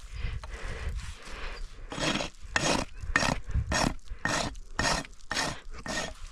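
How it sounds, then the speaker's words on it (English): A new sharp hoof rasp is drawn across a horse's hoof during rehab trimming, making a steady series of loud, close rough strokes, about two per second, with no talk. "I'm just gonna come with my rasp on this one. It's a new sharp rasp."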